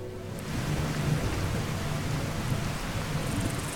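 Steady rain with a low rumble of thunder in the video game Fallout 4, a constant dense hiss of rainfall under a deep, continuous roll, with no voices.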